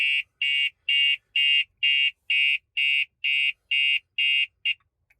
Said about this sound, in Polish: Włączyła nam się syrena.